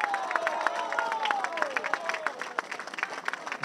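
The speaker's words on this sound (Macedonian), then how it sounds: "Силен аплауз за Македонскиот народен театар." A crowd applauding the actors of the Macedonian National Theatre: dense, steady clapping with some cheering and voices mixed in, sustained throughout.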